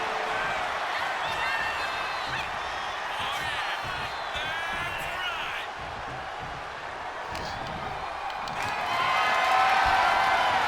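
A video game wrestling arena crowd in WWE 2K25 cheering and whooping in a steady roar that swells near the end, with a commentator talking over it.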